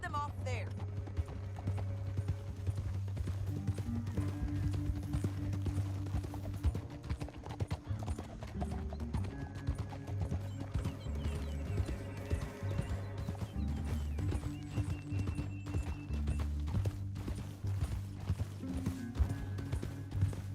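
Horses gallop in Red Dead Redemption 2, a steady rapid clip-clop of hooves with an occasional whinny, running under in-game dialogue and a sustained musical score.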